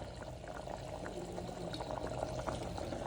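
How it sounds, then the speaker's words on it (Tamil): A pot of Tamil village-style dry fish curry made with ghee fish comes up to a boil, giving a steady bubbling, gurgling liquid sound at moderate volume throughout with no talking. "குழம்பு கொதி வரட்டும்"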